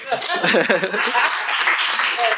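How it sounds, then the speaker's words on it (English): Applause from an audience at a book signing: a dense, continuous burst of clapping with cheering and chatter blended in, loud and even throughout. "You can clap it up for that."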